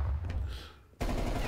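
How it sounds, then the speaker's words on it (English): Rapid gunfire in Call of Duty Cold War prop hunt mode, loud dense bursts that fade briefly and then resume at full strength. "They're shooting everything."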